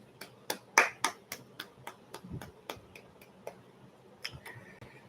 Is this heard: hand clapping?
yes